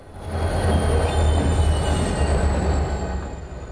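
An HO scale model train rolls into a yard lead, giving a steady close rumble of wheels on track with a faint high squeal, swelling and then easing off.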